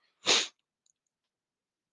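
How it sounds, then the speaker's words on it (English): A single short, sharp sniffle sounds close to the microphone, followed by near silence. "I apologize for the first sniffle of the day."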